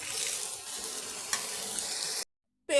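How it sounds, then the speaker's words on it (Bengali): Potato and papaya pieces lightly frying and being stirred in a pan, a steady close sizzle with soft scraping that cuts off abruptly near the end. "এবার আলু আর পেঁপেটা একদম লাল কড়াই ভাজবো না একটু হালকা ভেজে নিচ্ছি"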